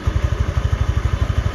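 A motorbike engine putters at a steady idle, close and loud, its rapid even thumping pulses repeating about ten times a second with no other sounds.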